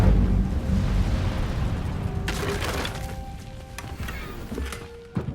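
An Incendio fire spell in the Hogwarts Legacy video game erupts with a rushing, crackling burst midway through, over a rumbling roar that gradually fades, with a few smaller pops afterward.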